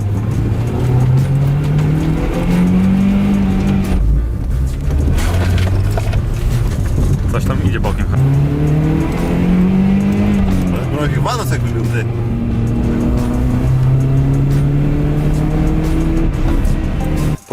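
An old, worn-out car engine just swapped into a beat-up car is revved hard again and again, each rev swelling into a loud, rising whine and falling back, close up, with people talking over it.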